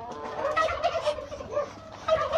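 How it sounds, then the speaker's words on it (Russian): A bearded village hen calling close by, a run of throaty, warbling clucks and gobble-like notes with no pauses, fairly loud over a low background hum. "Вот она, бородатая курица"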